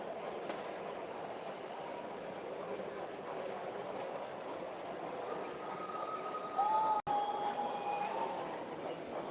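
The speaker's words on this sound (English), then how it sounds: "Oh, here comes the train." A model railway train rumbles past steadily against a busy background hum at a model railway show, with a brief high squeal near the end as it goes by.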